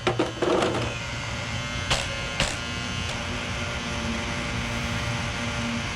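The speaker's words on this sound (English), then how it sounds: "And the fans are noisy on this one," Noisy cooling fans on a Traxxas Maxx RC truck whir in a steady high buzz close by, with a few sharp clicks and knocks near the start.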